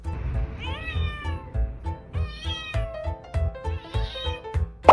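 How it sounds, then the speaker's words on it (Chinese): A cat meows several times in quick succession, with rising and falling drawn-out calls over a low rhythmic thumping beat and no talking. "一只猫， 喵喵喵"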